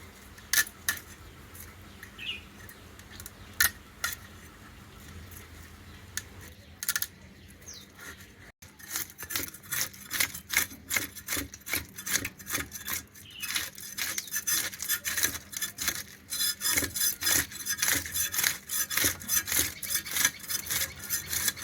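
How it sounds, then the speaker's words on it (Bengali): A rohu fish being cut and scaled up close: repeated rough rasping, scraping strokes, sparse at first, then coming fast and dense in a steady busy rhythm. "মাছ কাটতে কাটতে"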